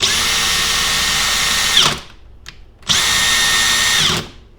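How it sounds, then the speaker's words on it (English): A Makita cordless drill spins at its highest speed in two steady bursts, a high buzzing whine that winds down briefly between runs, close and loud. "Listen to this Makita."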